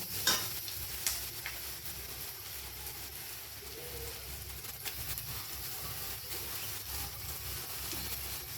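Steady sizzling of fried eggplant in a pan, with a few scraping stirs as bathua greens are mixed in; no voices.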